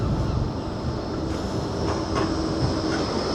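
A Blackpool tram rolls past along the seaside promenade, a loud steady rumble with rail hum and faint clatter close by, no voices over it.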